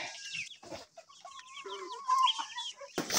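Chickens clucking on a farm out in the fields, a busy mix of clucks, squawks and a drawn-out crowing call from several birds close by, with no talking.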